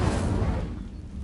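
A fire spell cast in the Hogwarts Legacy video game: one loud, close rushing burst that fades steadily over about a second.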